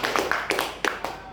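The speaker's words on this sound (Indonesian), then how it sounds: "Tepuk tangan dulu buat" Scattered handclaps from a small audience of women at an indoor product presentation, a handful of sharp claps over a few seconds with faint background chatter.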